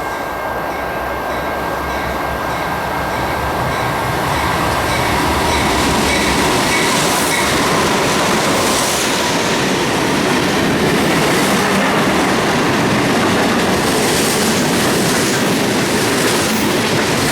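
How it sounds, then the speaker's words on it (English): Freight train Q453, a manifest train in South Florida, rumbles past loud and close with continuous rail clatter and wheel noise that swells and holds throughout. "Train Q453 carries the manifest haul for Miami and points around"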